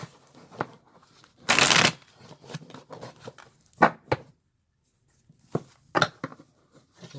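Tarot cards are shuffled by hand: one loud, dense riffle burst of about half a second, surrounded by softer scattered taps and card slaps in a quiet room, with no talking.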